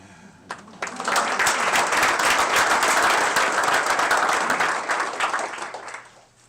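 Loud, sustained audience applause at a university Founders' Day ceremony. It swells suddenly after a single early clap, holds steady for several seconds, then tapers away.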